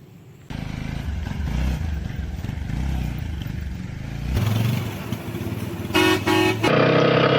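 A TVS Apache motorcycle rides through evening traffic, its engine droning under steady road noise while nearby vehicle horns honk, including a sharp repeated toot near the end.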